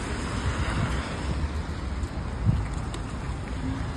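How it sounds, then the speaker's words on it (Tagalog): Heavy rain pouring on a street, a steady soft hiss of falling water with faint background noise and no talking. "Grabing ulan."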